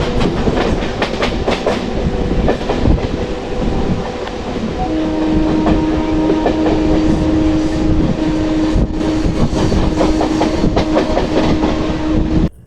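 A local train rolls along the tracks with a loud, continuous rumble and rhythmic wheel clatter. A sustained tone rises in partway through and carries on until the sound cuts off abruptly at the end.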